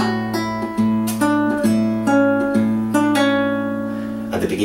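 Fingerstyle guitar plays measure 18 of a piece from Lord of the Rings, with a sustained open bass note under plucked melody notes and a hammer-on, close and alone, in a gentle steady rhythm.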